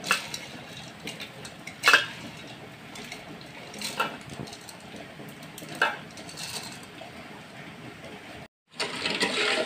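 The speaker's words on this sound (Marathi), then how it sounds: "हे अशी शेव बारीक करून घेऊया।" Dry fried gram-flour sev noodles being crushed finely by hand for laddoos, a steady crumbly crackle with a few sharper snaps, close and fairly quiet, no talking.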